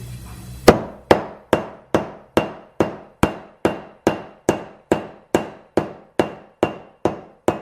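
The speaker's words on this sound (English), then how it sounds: "Pretty close, but finish it up with a hammer." Hammer blows drive a part down in an old steam-powered machine shop, about fifteen sharp metallic strikes in a steady, evenly spaced rhythm, loud and close with ringing decay.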